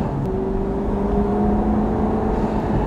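A car engine is revved in a steady, loud, close drone with a faintly rising whine, running continuously without speech.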